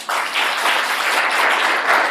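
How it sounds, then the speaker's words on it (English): A Civic Hall audience at a housing hackathon gives loud, dense applause that holds steady for the whole stretch, close and continuous with no gaps. "So applause for all of them."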